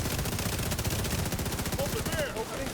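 Rapid automatic gunfire rattles in a video game shootout, a fast, even stream of shots that keeps going for the whole stretch at a moderate level.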